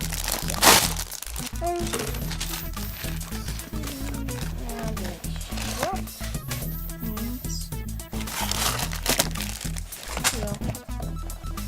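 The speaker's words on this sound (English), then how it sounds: "now let's start opening the box" Crinkling and crackling of a LEGO set's packaging being handled and torn open, close by, with a person talking over much of it.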